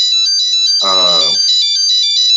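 A telephone ringtone plays steadily as a bright, repeating tonal melody, with a short burst of a voice talking over it partway through.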